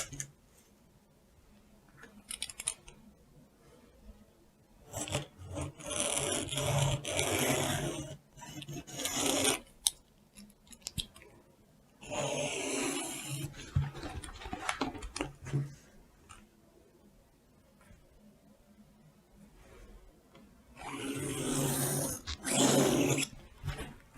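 A pencil sketches a cross-shaped sleeve pattern on paper in quiet, intermittent bursts of dry scratching strokes separated by near-silent pauses, with no talking.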